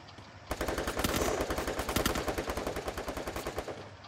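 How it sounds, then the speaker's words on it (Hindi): Rapid automatic gunfire in the Free Fire battle royale game, a fast steady burst of shots that runs for several seconds and slowly tapers off, loud and close with no talking over it. "तो कोई फायर दे रहा मुझे पीछे से"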